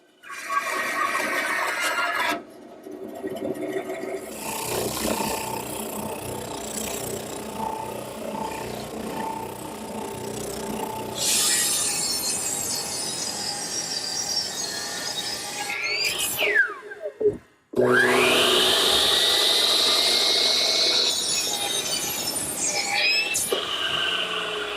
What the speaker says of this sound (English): I've also laid out the decorative cut at each side of the gate, and we'll start by cutting that on the bandsaw